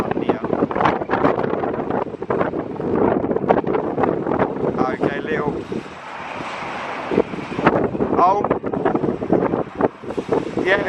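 Strong gusty wind roars across the microphone at London Gatwick Airport as a Wizz Air A321neo comes in to land in high winds, with steady buffeting under a person's brief spoken remarks.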